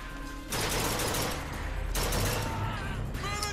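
Gunfire in Bioshock Infinite, two loud close bursts of rapid shots separated by a short pause, with a faint voice underneath.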